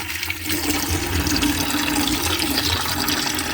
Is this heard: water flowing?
yes